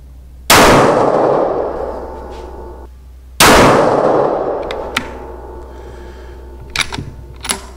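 Two sharp, loud 6mm Creedmoor rifle shots about three seconds apart, each a hard crack with a ringing decay, followed by a few lighter metallic clicks and handling noises.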